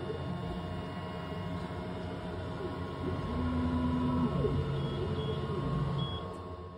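An xTool M1 laser and blade cutter machine framing an ornament design, giving off a steady mechanical hum with a brief motor whine partway through and faint high beeps near the end.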